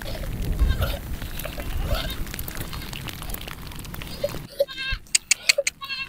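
A herd of goats walking past in the rain, bleating repeatedly at close range over a steady patter of rain and footsteps, with louder distinct bleats toward the end.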